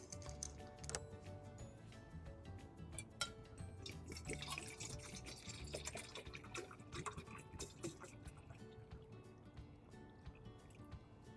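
Water is poured into a pot for an alcohol stove outdoors, a faint, continuous gurgle and dribble with scattered drips and small splashes throughout.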